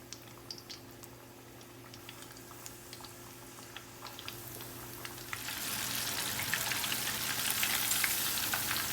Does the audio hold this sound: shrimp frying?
yes